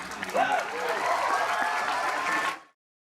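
A crowd cheers and applauds loudly and continuously for over two seconds, with raised voices rising through the broad clapping noise before it cuts off abruptly.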